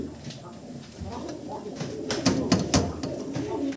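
A pair of white Lakka pigeons coo in soft, repeated low calls, close by, over a steady background murmur.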